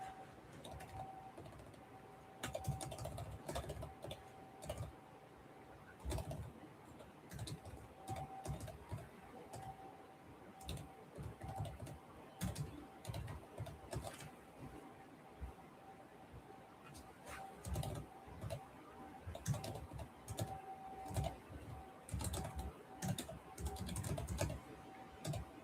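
A computer keyboard is typed on in quick, uneven bursts of light clicking that run almost continuously, with a person talking quietly underneath.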